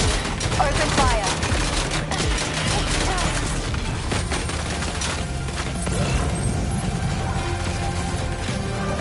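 Gunfire from Death Stranding 2 rattles in quick repeated shots over a steady battle din, loud and busy for most of the stretch, thinning toward the end.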